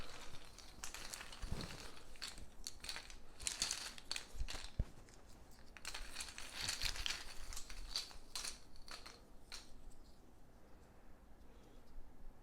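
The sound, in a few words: rummaging in the monster bag of the Eldritch Horror board game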